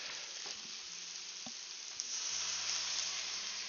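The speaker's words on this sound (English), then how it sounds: "There's the sizzle." Food sizzles in a hot pan with a bright, steady crackle that swells louder after a few soft clinks and taps, no one talking.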